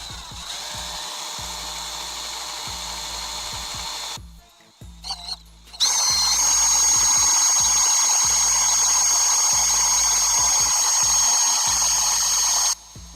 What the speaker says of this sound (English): You want to help me drill this out?